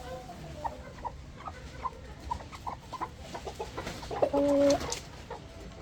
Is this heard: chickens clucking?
yes